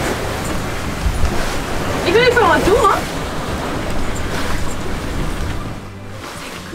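Ocean waves wash steadily around a sailboat being steered through choppy water, a broad rushing hiss that lasts the whole stretch while people talk over it.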